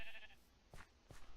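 A sheep in Minecraft's TerraFirmaCraft mod gives two brief, faint bleats in quick succession after a short high tone, set against a quiet background.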